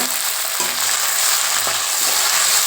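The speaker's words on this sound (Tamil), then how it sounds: "அதை போட்டுட்டு நல்லா வதக்குங்க" Steady loud sizzling of tomato and onion sautéing in a pan, with a few soft scraping stirs, no talking.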